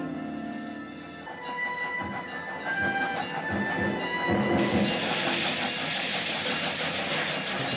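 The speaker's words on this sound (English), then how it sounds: "There's the train." A steam train in a 1957 western film rumbles and clatters as it approaches, its mechanical chugging and metallic squeals growing louder and busier over several seconds.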